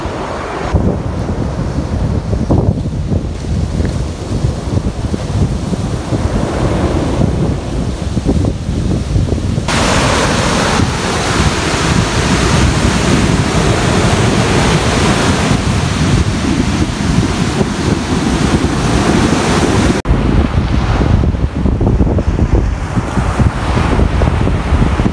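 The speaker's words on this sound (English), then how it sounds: "time for some ocean slash beach vibes" Ocean surf washes onto a beach under heavy wind buffeting the microphone, a loud, constant roar of breaking waves with no voices, its intensity shifting in broad surges.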